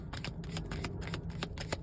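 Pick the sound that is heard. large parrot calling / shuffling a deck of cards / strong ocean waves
shuffling a deck of cards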